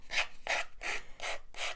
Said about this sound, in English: we're going to just do a little sanding